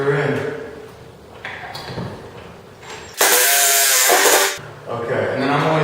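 A power drill drives a screw into wood while an overhead garage storage unit is being built. One loud, steady burst of a little over a second stands out clearly, with voices and workshop noise before and after it.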